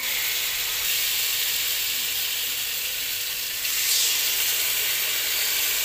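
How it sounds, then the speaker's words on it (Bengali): Hot water hitting sizzling fried spice masala in a pan gives a loud, steady steam hiss that swells briefly near the end, with no talking. "গরম জল দিলাম।"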